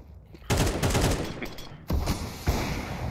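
Counter-Strike 2 gunfire rattles out in two loud, dense bursts of rapid shots, close and dominant, with a short gap between them.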